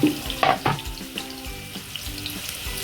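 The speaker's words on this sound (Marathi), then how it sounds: "2 कांदे कट केलेले आहेत मोठे मोठे, ते आपल्याला तेलात फ्राय करून घ्यायचं आहे." Two large chopped onions frying in hot oil, a loud crackling sizzle that flares with a few sharp bursts early on and then settles into a steady, close spitting hiss.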